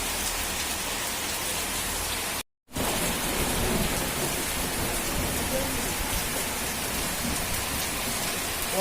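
Heavy rain with thunder, heard from shelter at a shop, makes a dense, continuous roar with rumbling underneath, interrupted by a brief moment of silence before the downpour continues at full strength.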